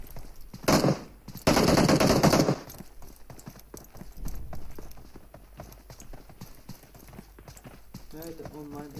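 Rapid bursts of gunfire in the mobile battle-royale game PUBG Mobile, loud dense volleys early on, then scattered lighter shots and clatter with a voice speaking near the end.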